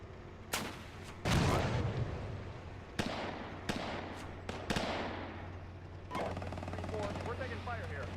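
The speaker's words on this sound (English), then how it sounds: "2-1, we're taking fire here." Gunfire in a military video game, sharp loud shots and bursts at irregular intervals, some close and heavy, others more distant, over a steady low hum with voices occasionally underneath.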